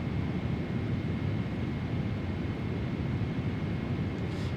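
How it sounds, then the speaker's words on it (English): Steady, loud jet engine roar from a PMDG 777-300ER airliner in Microsoft Flight Simulator 2024, Swiss livery, with the Boris Audio Works sound pack, a dense continuous rumble with no talk over it. "the PMDG 777 with the Boris Audio Works sound pack, it's one of my favourite aeroplanes now."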